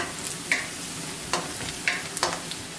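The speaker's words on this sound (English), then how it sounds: "Just brown your onion first before you put any ingredients." An onion browns in a pan for beef stew, a soft steady sizzle broken by several sharp stirring scrapes, close and alone.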